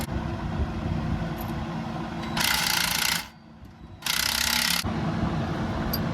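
Shock bolt on a Jeep Gladiator Rubicon, fitted with a 2-inch AEV lift and 37-inch tires, is tightened on a new bracket; two loud, sustained whirring bursts of a power ratchet or impact tool ring out near a running engine.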